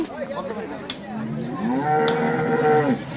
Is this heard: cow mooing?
yes